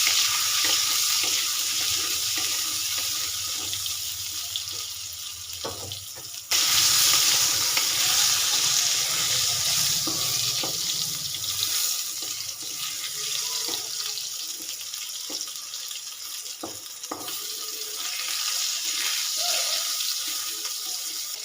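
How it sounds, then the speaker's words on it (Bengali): Eggplant pieces with turmeric and salt frying in a pan, a steady close sizzle that jumps louder partway through, punctuated by scattered spatula scrapes and clicks, no voices. "সামান্য একটু হলুদ গুঁড়ো সামান্য একটু লবণ দিয়ে বেগুনগুলো খুব ভালো করে ফ্রাই করে নেবো"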